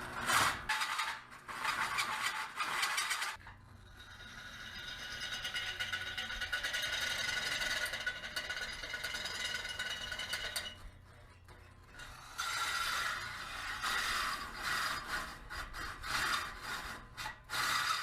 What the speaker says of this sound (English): we're going to drill us a hole so that that can slide through